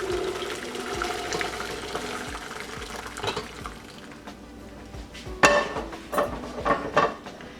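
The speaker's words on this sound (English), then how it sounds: "So let's drain the water from this rice" Water pours and splashes through a strainer as cooked biryani rice is drained, then metal pot clinks and clatters sharply near the end as the pouring tapers off.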